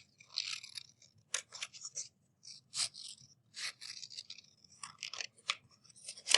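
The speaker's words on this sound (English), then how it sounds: "And then I'm going to cut them out" Close, quiet scissors snip through paper pattern pieces for a mitten, in short separate bursts of crisp cutting strokes with brief pauses between them.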